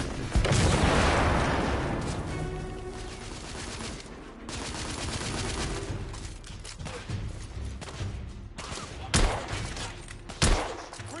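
A grenade blast and sustained gunfire in the video game The Order: 1886, with a loud explosion at the start followed by dense rattling bursts of weapons fire and further sharp booms near the end.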